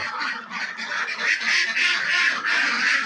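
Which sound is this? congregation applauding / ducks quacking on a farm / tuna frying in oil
ducks quacking on a farm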